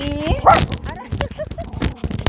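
A jealous pet dog gives a short sharp yelp and a few whimpering barks close by, mixed in with a person talking and laughing to the dogs during a meeting between dogs.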